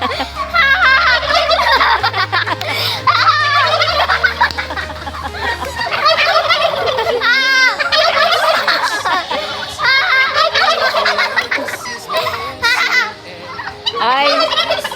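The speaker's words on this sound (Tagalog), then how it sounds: "Ang laki ng pabo." Turkeys at a wildlife park in Pansol gobble loudly and repeatedly, their rattling calls overlapping throughout, with a low droning hum beneath and a few human voices mixed in.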